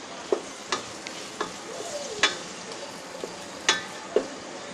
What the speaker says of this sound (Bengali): পেঁয়াজগুলোকে আমি এখন ব্রাউন কালার করে ভেজে নেব